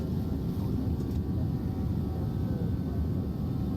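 A Boeing 737 cruises in X-Plane 12, a steady, low, rumbling engine drone that holds constant throughout, with no voices.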